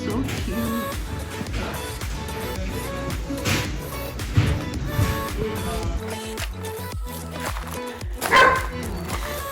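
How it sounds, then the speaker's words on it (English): A shy puppy yips and barks several times outdoors, with short barks scattered through a busy background of other noise and a sharper burst near the end. "This dog is very shy."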